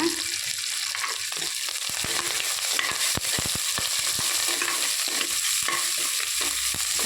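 Curry leaves and dried red chillies frying in hot oil, a steady close sizzle broken by scraping stirring clicks and clatters throughout.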